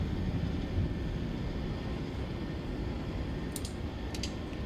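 Boeing 737 jet engines in MSFS 2024 during takeoff roll and climb: a steady, loud broadband roar sustained throughout, with a couple of brief higher clicks near the end.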